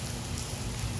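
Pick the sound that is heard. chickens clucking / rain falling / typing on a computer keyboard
rain falling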